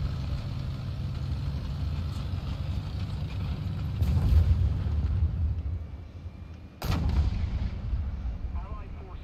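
Missile launch and explosions in a tank battle game featuring a Challenger 2, two sharp, loud blasts a few seconds apart over a constant low engine rumble.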